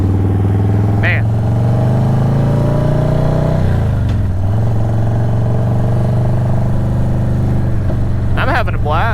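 A Harley-Davidson Dyna Low Rider S motorcycle being ridden on the road, its engine drone loud and steady with a brief pitch dip as it shifts, under wind rush and a rider's voice.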